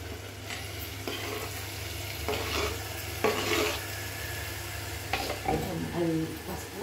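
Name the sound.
paneer pieces frying in pan for curry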